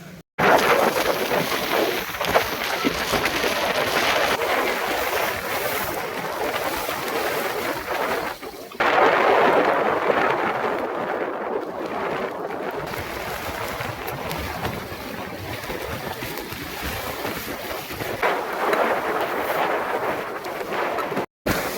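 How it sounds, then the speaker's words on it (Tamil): A sudden strong windstorm roars across Pannai beach in Jaffna, buffeting the microphone with loud, continuous gusting noise and a brief lull near the middle. "திடீரென்று காற்று சரியான வேகமாக வந்து அடித்து பாருங்கள் மரங்கள் எல்லாம் வந்து முறிச்செறிஞ்சு ஓட்டுது"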